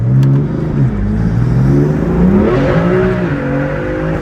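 A car accelerates hard in one short pull, its loud engine note climbing steadily in pitch close by, with no talking over it.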